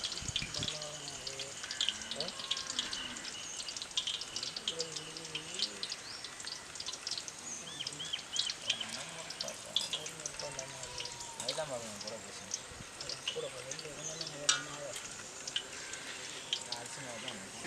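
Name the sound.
rose cookies (achu murukku) frying in oil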